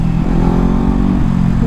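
A green motorcycle rumbles past at close range, its engine loud and steady through a brief pass with no one talking.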